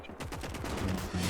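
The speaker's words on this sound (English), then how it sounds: "But I also hear some shots on the right side." Bursts of rifle and machine-gun fire ring out in a World War II battle in Gates of Hell, the shots rattling in quick succession at moderate distance with no voices.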